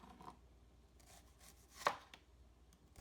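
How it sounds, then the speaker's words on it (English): Knife slicing onions into rings on a cutting board, faint and close, with a few quiet cuts and one sharper chop near the middle, no talking. "Now the first thing we're going to do is slice our onions."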